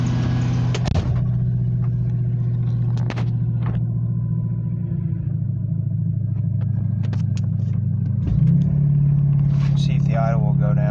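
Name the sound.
1999 Ford F-250 truck engine idling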